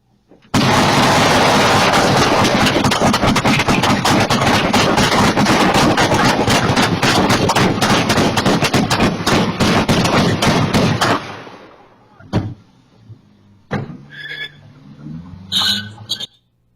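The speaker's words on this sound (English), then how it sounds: "Because it was probably some smaller caliber automatic weapon." Sustained rapid gunfire from a smaller-caliber automatic weapon, captured on a home recording, runs continuously for about eleven seconds as a loud, dense burst, then cuts off, leaving a few scattered pops and faint sounds.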